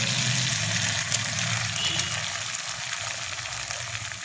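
An egg frying in a little oil in a pan beside fried potato and carrot, producing a loud, continuous close hiss that holds steady and tapers slightly, with no voices.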